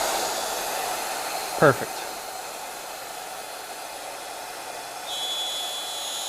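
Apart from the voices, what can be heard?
CNC router spindle and dust vacuum running during a cut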